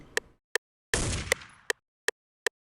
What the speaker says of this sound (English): The gunshot effect I just added right before the drop just to add some more spice.